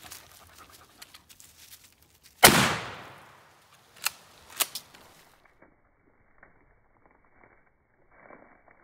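A single loud, close shotgun blast fires a 2 3/4 inch Winchester 1 ounce rifled slug into a pumpkin outdoors, with a decaying tail, then a couple of sharp knocks and faint rustling afterward.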